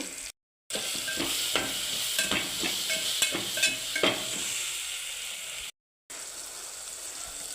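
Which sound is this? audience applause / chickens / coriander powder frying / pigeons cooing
coriander powder frying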